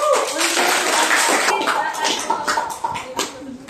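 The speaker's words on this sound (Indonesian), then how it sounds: "Kita berikan aplaus" Classroom applause from a group of students, a dense burst of close clapping that thins out into scattered claps, with voices mixed in underneath.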